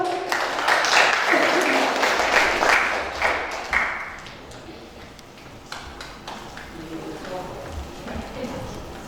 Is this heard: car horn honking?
no